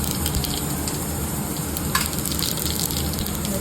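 Cumin seeds sizzle in hot oil for a plain cumin tempering for pav bhaji, a steady close crackling hiss that carries on evenly, with one brief sharper spatter partway through.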